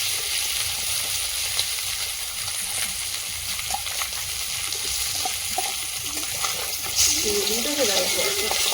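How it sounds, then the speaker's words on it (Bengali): Fish frying in hot, spattering oil, a steady broadband sizzle running throughout with small crackles, a voice speaking faintly underneath and a louder burst near the end. "তেল ছিটকাচ্ছে, সাবধানে তোলো।"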